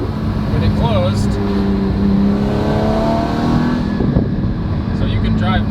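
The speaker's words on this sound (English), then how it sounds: "Now let's just do a comparison, a quick pull with it closed." A Porsche GT4 (981) with a Valvetronic Designs exhaust, valves closed, revving up under acceleration with a muted, subdued exhaust note, steady rising drone, with a voice speaking over it.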